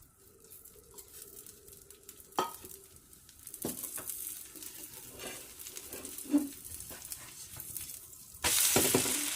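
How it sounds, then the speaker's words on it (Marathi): Kerala appam cooking in a pan as oil is added, a soft sizzle with light utensil scrapes and taps, the frying swelling louder at the end, no voices. "खालून चांगलं भाजलेलं आहे त्याच्यावर मी आता थोडंसं तेल सोडते"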